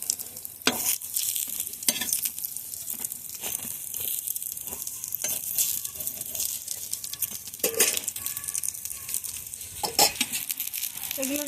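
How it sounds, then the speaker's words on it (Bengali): Semolina-coated eggplant slices sizzle loudly in a frying pan as a constant hiss, with repeated scraping and flipping clatters from a spatula as the pieces are turned. "উল্টে পাল্টে আমি ভেজে নেব।"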